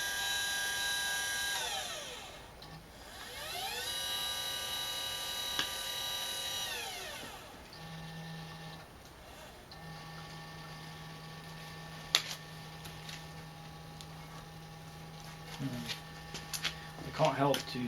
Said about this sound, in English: I can't help to start wondering about that sound from the declination motor.